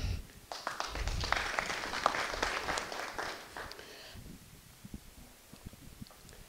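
Applause at a political press conference, a moderate patter of hands from a small room, fairly close and steady for about four seconds before fading into a few isolated claps and faint rustling.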